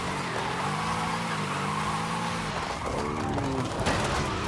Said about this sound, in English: It's really fun to drift in with the rear-wheel drive, upgraded.